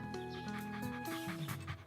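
A cartoon puppy pants and whimpers in a few short, close, breathy and whiny bursts over a soft tonal background, with no speech.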